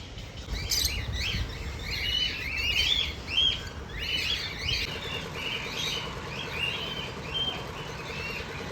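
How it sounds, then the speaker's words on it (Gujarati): Several parrots give shrill, rasping screeches and chirps in quick overlapping bursts at a zoo, fairly close, over a low background rumble. "અહીંયા તો આ બધા દેશી પોપટ"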